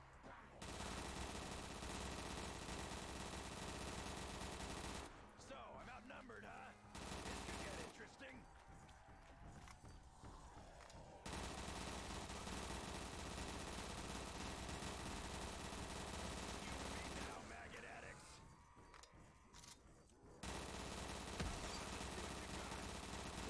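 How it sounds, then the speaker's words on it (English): RPK machine gun fire in a Call of Duty Zombies match on the Mob of the Dead map, sustained bursts of rapid automatic shots with brief pauses, mixed with game effects and background noise. "Dang, this RPK is ripping."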